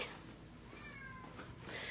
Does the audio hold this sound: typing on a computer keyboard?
no